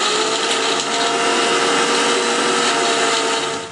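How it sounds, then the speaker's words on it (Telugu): A mixer grinder runs continuously and loudly up close, whirring and churning soaked tamarind into chutney, with a steady dense roar from start to finish. "ఇప్పుడు మెత్తగా గ్రైండ్ చేసుకుందాము."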